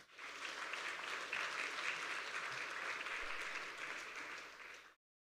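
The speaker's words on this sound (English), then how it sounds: "let's give him a round of applause as he comes up" Audience at a corporate listing event for Premier Group Limited applauds as the company's CEO comes up, a steady, even wash of clapping from a seated crowd, fairly faint, ending abruptly.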